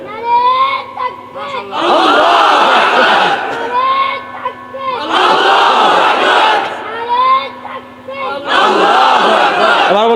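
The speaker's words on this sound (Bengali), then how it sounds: "দাও, নারায়ে তাকবীর দাও।" A crowd at a religious gathering shouts the Naraye Takbir slogan in loud call-and-response bursts, with a single leader's voice between the massed roars and several waves rising and falling close by.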